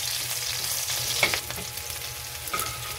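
Garlic browns in oil in a pan for pork belly adobo, a close, steady sizzle with a couple of sharp spatula scrapes.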